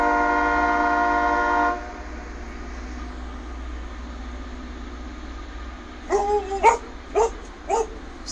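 A train's horn blares a loud sustained chord right outside a house at night, cutting off after under two seconds. A faint rumble follows, then a short burst of nearby dog barks.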